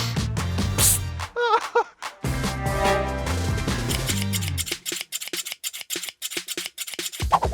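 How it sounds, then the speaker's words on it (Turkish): Fine precision scissors snip steadily as a cloth cover is cut, a run of sharp, close clicks following loud background music that fades out. "En hassas makaslarımı kullanıyorum."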